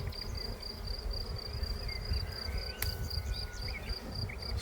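A dense, steady buzz of a honeybee swarm hums outdoors, a continuous drone with faint insect chirps above it and no voices.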